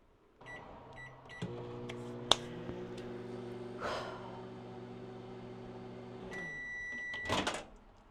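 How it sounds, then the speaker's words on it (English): A microwave oven hums steadily for 30 seconds while melting Rice Krispie treat ingredients with a teaspoon of water, bracketed by soft beeps and a click, in a quiet room. "I'm gonna put it in the microwave for 30 seconds."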